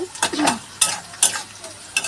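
Mango chutney with added sugar being stirred in a wok, repeated scraping strokes of a spoon against the metal over a continuous sizzle, close and fairly loud, with no talking.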